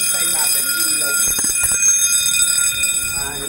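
Building fire alarm sounding during an alarm test, a steady high electronic tone held throughout with rumbling and clatter beneath, while people talk nearby.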